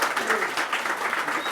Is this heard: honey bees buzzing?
no